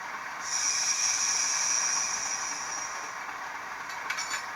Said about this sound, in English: Loco brake.